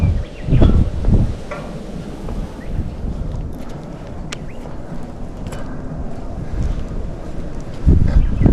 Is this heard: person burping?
no